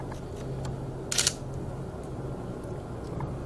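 A single-lens reflex camera shutter fires once at 1/8000 second, a crisp, brief, close mechanical snap in a quiet room, no talk.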